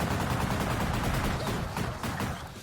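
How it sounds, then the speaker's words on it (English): Rapid machine gun fire in the action game X-Blades during a boss fight, a dense, continuous rattle of loud close shots with no talk. "And then just machine gun your health away."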